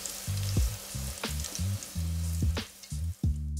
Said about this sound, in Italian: E vai con lo sfrigolio.